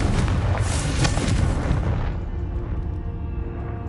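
A Confringo spell explodes in the Hogwarts Legacy video game as a loud, continuous burst of booming blasts and crackle that fades into a lower rumbling tail after about two seconds.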